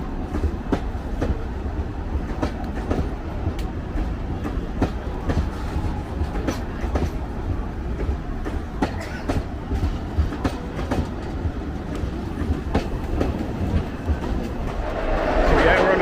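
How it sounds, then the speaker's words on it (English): A wooden train runs on rails through olive-terraced mountain valleys, its steady rolling rumble and clickety-clack continuing throughout and swelling louder near the end, with faint voices underneath. "so yeah, like I said, a wooden train."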